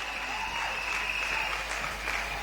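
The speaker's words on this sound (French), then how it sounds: "Clap for Jesus." A church congregation claps together in sustained, dense applause at a family service, steady and loud throughout with no break.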